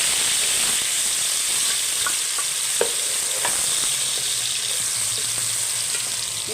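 Two chopped onions and three green chillies fry in hot oil in a pan, a loud continuous close sizzle with occasional soft scrapes of stirring, no voices.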